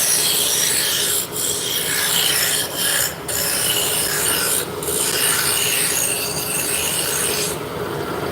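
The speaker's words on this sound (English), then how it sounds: "So this is a roughing gouge. It takes off a lot of material." Roughing gouge shearing wood on a lathe, a steady loud rasping scrape running throughout with brief dips where the tool lifts off the spinning workpiece.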